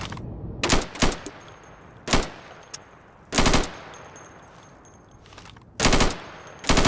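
Primary-weapon gunfire in the Insurgency video game: loud, close bursts of automatic fire, about six short volleys separated by quieter gaps.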